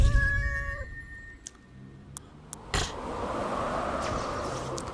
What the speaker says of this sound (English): Let's build a Tempest and a Necomata cat.